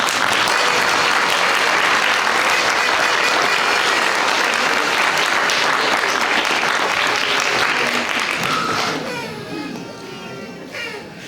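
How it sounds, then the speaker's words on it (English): Audience applause at a 20th-anniversary celebration for a community center: a steady, full burst of many hands clapping that holds loud for about nine seconds, then thins and tapers toward the end. "I want to applaud for this hero for us really"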